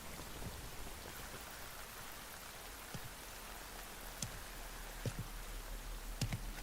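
Steady rain in the stealth game Metal Gear Solid Snake Eater, a soft continuous hiss of falling drops with a few sharper drip and splash ticks scattered throughout, no speech.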